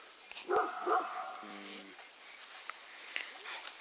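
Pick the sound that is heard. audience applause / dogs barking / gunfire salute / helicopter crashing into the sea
dogs barking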